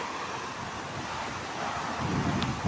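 Rushing water from a waterfall in Nueva Vizcaya mixes with gusting wind buffeting the microphone, a steady outdoor roar that swells slightly near the end.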